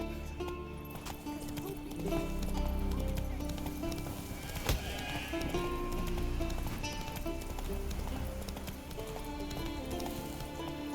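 Roach the horse galloping in The Witcher 3, with a steady patter of hoofbeats under a continuous layer of game music, plus one sharper hit around the middle.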